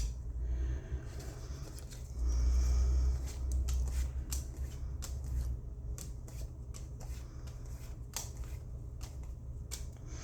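A deck of tarot cards is shuffled and slid together by hand, with repeated riffling bursts and soft ruffling and tapping of cardstock, close and fairly quiet with no talking.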